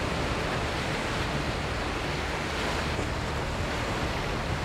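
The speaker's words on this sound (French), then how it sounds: "Je crois qu'on commence à arriver dans des rapides sérieux ici." Steady, dense roar of rushing rapids on a wild river in British Columbia, loud and continuous with no break and no voices.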